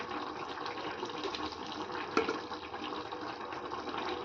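Water poured into a pan of meal maker (soya chunk) curry, a steady close pouring and bubbling wash with a brief clank midway.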